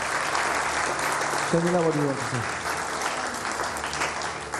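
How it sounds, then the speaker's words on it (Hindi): Studio audience applauds throughout on a live Ramadan iftar television show, a steady dense clapping wash with a brief voice rising over it midway. "तालियां बजा दीजिएगा"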